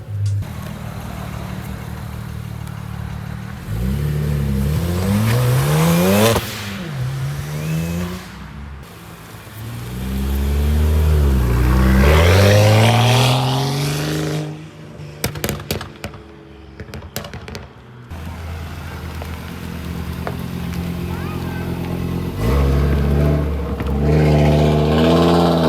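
An Audi fitted with an APR wing accelerates hard with wheel spin at a freezing Cars & Coffee meet: loud, close engine revs climb and fall in several surges, broken midway by a cluster of sharp crackling pops, then a steady drone before a final rise.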